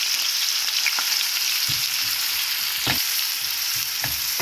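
Onions frying in ghee for Sylheti jute leaf saag make a constant close crackling sizzle, punctuated by a few soft spoon knocks and stirs.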